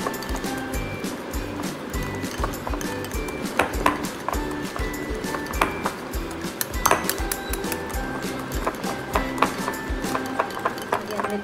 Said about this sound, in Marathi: जास्ती वेळ ते तुम्ही फेटत राहायचं, कारण आपलं जोपर्यंत बेसन हलकं होत नाही तोपर्यंत आपण त्याला फेटायचं।